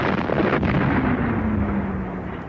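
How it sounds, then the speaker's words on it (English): A World War I artillery barrage roars as a loud, continuous rumble of explosions, heavy and booming and filling the whole stretch without pause. "artillery barrages unlike anything seen before"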